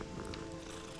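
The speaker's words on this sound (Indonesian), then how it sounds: "Dia berdengkur, berarti dia suka." A cat purrs softly and continuously in Hogwarts Legacy, a low steady rumble close by and quiet, with no talking over it.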